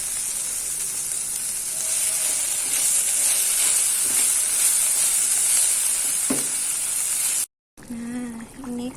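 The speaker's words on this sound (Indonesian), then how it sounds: "Nah ini kalau sudah agak mengental ya, ini 2 kali mendidih" Beef krengsengan sauce boiling and thickening in a pan, a steady loud sizzling hiss with bubbling that cuts off briefly near the end, followed by a short voice.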